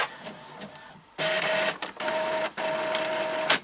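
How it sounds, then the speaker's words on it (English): A printer runs in bursts, whirring and buzzing through three loud passes with brief pauses between them, near and alone, beside a Midland 77-104 CB radio setup. "Oh, we've got the printer."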